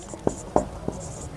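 A pen marks a point label on a compass-and-ruler geometry drawing, giving a few soft, brief scratchy strokes close up over a faint background hiss.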